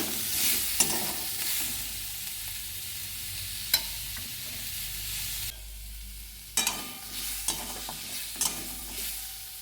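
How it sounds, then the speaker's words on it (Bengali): Tomatoes with a little salt sauté in a pan, giving a steady close sizzle with occasional spatula scrapes, then a brief quieter stretch before several clattering stirs return. "সামান্য একটু সাঁতরে নেব টমেটোগুলোকে"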